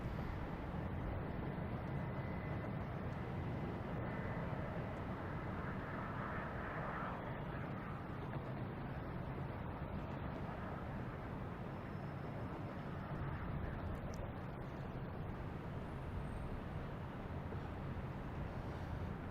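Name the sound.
United Airbus A220 jet taking off at Boston Logan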